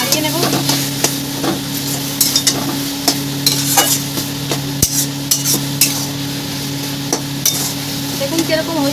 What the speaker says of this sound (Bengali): দিয়ে ভালো করে নাড়িয়ে নেব